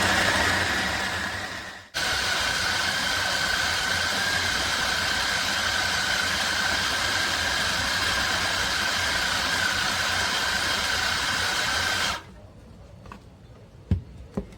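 Chicken being ground into siomay filling in an electric grinder: a steady loud motor whir running for about ten seconds, cutting off abruptly, then a few faint clinks.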